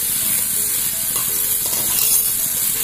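Drumstick pulp and masala sauté in a hot pan, giving a steady close sizzle with light stirring scrapes and no voices.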